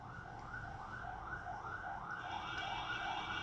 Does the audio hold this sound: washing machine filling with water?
no